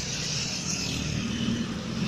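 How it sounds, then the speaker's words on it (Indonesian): Intercity Bis 2000 bus on the Tasikmalaya–Cikarang route, its engine a steady low rumble with broadband road noise, continuous and fairly close, passing through Ciawi, Tasikmalaya. "Jadi ada bis 2000 Tasikmalaya Cikarang."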